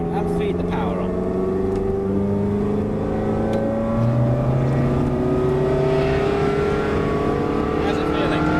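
A Ferrari engine accelerates on the Silverstone circuit, a loud, close, continuous drone with its pitch climbing steadily and a gear change partway through, heard from inside the car.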